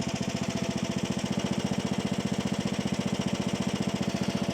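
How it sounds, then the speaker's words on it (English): A mower engine running on a farm, chugging in a fast, regular pulse that holds steady and close with no talk over it. "Now we're going to put the mower in the new arena, new round yard"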